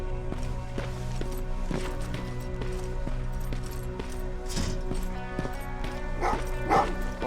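Dogs barking and yipping in the Terminator: Resistance video game, several short barks over a steady game music and ambience bed at moderate distance, with no talk.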